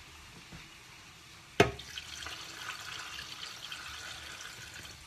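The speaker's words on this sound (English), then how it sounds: "so I'm gonna pour this in here." Tea poured into a jar: after a sharp knock, a steady liquid splashing and trickling runs for several seconds, fairly quiet and close, with no speech.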